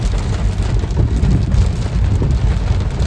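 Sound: heavy rain

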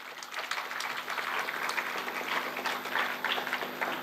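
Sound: audience applause

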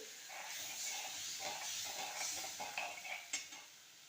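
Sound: water with salt coming to a boil

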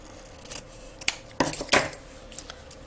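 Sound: scissors cutting satin ribbon

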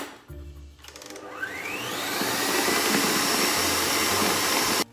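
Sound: electric mixer beating mascarpone cream cheese frosting on high speed

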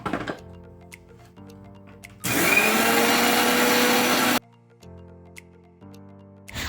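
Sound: mixer grinder jar grinding oats

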